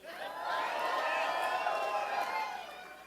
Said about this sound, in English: So everybody, round of applause for Philip the Abortion Stork.